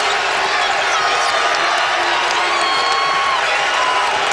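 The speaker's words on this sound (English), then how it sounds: "Crowd getting into it here at the Yum." Louisville Cardinals fans at the Yum Center roar continuously through a college basketball game against Florida State, a loud, dense and unbroken crowd cheer with scattered whoops rising out of it.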